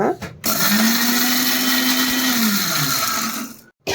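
A mixer grinder blends raw mango chutney to a paste, its loud steady whine running for about three seconds with a slight pitch rise and fall, then cutting off abruptly before a brief restart.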